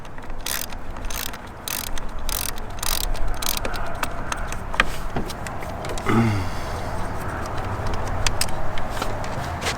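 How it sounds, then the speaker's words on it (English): Bolts being loosened from the engine bay of a Jeep Wrangler 2.0, with a rapid, repeated ratchet clicking in short bursts close by, along with metallic tool clatter and handling noise, and no talking. "So you just simply take these 3 little bolts out here"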